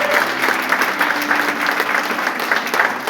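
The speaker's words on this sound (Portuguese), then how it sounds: "Vamos aplaudir o Senhor por isso?" A church congregation applauds during a worship service, a dense, even wash of clapping from a large crowd that holds steady throughout.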